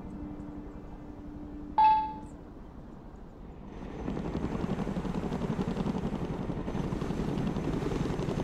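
A Chinook helicopter in the war video game Broken Arrow opens with a short electronic tone. About four seconds in, a steady, throbbing rotor and engine rumble swells up and continues at moderate loudness.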